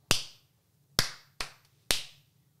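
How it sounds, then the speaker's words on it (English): Four sharp, separate hand claps with uneven spacing, close and fairly quiet, with no voices around them. "Clappy claps."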